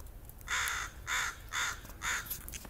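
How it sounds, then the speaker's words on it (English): Crow cawing outdoors, four evenly spaced harsh caws in a steady rhythm, loud and fairly close with no talking. "Check out the one crow"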